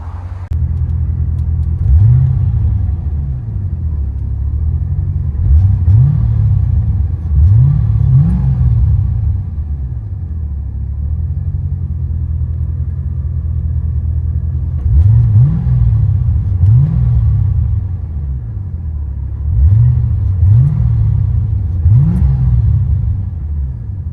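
Inside a 1989 Chevy Corvette C4 with a 5.7L V8, Borla ProXS mufflers and a high-flow third cat, the exhaust drones deep and steady, rising in repeated rev and acceleration pulls, loud and without talk.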